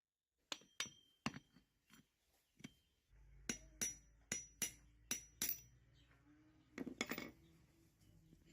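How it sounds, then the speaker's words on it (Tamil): A small rod tapping out the lower part of a bearing in an Amma wet grinder, a sequence of sharp metallic clinks and taps, about a dozen strikes in uneven rhythm, close but soft, over a faint low hum. "இப்போ பேரிங்கோட கீழ் பகுதியை மேல இருக்க ஓட்ட வழியா சின்னதா ஒரு கம்பியை வச்சு தட்டி எடுத்துடலாம்."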